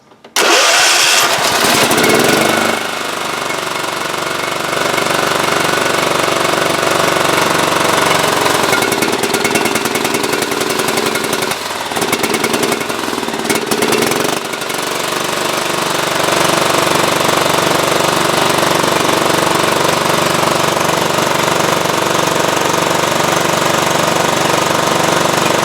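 A small engine runs after an ignition coil repair, clattering and rattling loudly and continuously for the whole stretch, heard up close with a few brief changes in its note and no talking.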